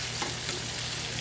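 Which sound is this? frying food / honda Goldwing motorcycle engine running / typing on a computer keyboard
frying food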